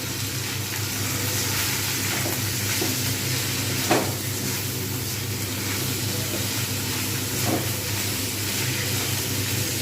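Oil sizzles and hisses steadily at close range while a spatula scrapes through frying potatoes with snake gourd, with a couple of louder stirring knocks.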